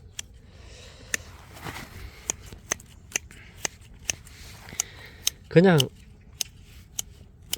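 Garden scissors snipping weeds and pepper plants in a vegetable patch, a string of sharp, regular close-up clicks with a brief rustle of foliage, while someone talks over them.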